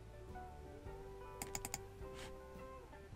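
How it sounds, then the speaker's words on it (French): A left mouse button clicked twice in quick succession on a PC, a few sharp clicks close together standing out briefly over a quiet background hum, with no talking. "Pour l'ouvrir, je clique deux fois du bouton gauche"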